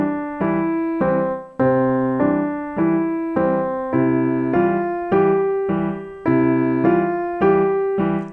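Piano played in a bouncy left-hand bom-ching-ching-ching pattern, a low bass note followed by three repeated chords each measure, under a sustained right-hand melody; steady, clear and alone.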